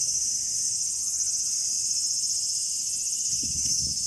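Insects, likely crickets, chirp outdoors in Nagoya, Japan in a steady, dense, high-pitched drone that holds throughout, with a faint low rustle near the end.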